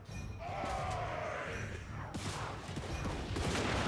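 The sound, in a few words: dwarf Thunderers volley gunfire in Total War: Warhammer 3 video game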